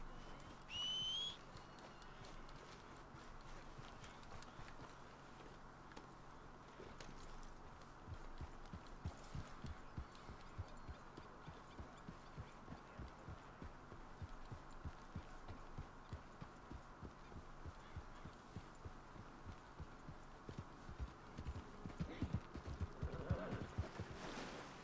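Rhythmic horse hoofbeats clip-clopping at a steady trot in Red Dead Redemption 2, fairly quiet, with faint ambient sounds and a brief tone near the start.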